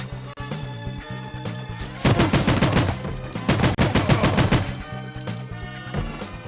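Rapid automatic gunfire bursts from The World is Not Enough shooter game, loud repeated volleys over a steady musical game soundtrack, no voices.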